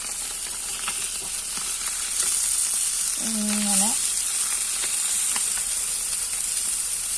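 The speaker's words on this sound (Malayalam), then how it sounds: "കുറച്ച് വറുക്കാനും വെച്ചു." Fresh fish from the beach sizzles steadily in a hot frying pan, a close, continuous crackle with a brief spoken word over it.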